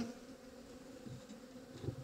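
Honeybees buzz faintly around a hive during a transfer into a horizontal top bar hive, a steady low hum with a few closer passes.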